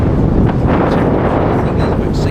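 Wind buffets the microphone on the coast at Bunbeg, Donegal, a loud constant rushing roar with gusty swells, and a voice is faintly mixed in.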